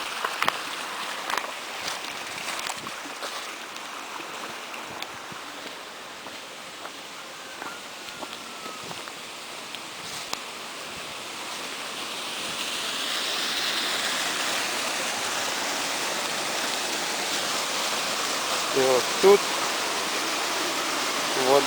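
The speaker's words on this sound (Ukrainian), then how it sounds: "Побудована невеличка дамба, дві труби, через які вода проходить попід дамбу." Water rushing through two pipes under a small dam on a river, a continuous broad roar that grows louder in the second half, with rustling and footsteps nearby.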